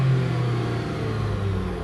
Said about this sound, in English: So we can rev it up